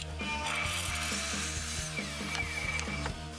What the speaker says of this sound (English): Now I'm gonna cut down the middle board.